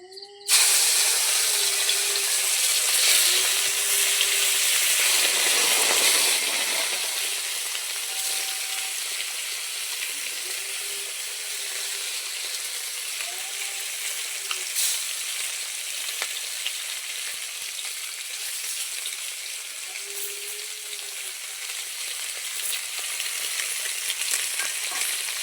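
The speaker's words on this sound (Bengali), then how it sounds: "তো মাছগুলো আমি একে একে দিয়ে দেব" Rohu fish frying in hot mustard oil in a wok, a loud, steady hissing sizzle that settles slightly quieter after a few seconds and continues for a long stretch with occasional spatters, no voices.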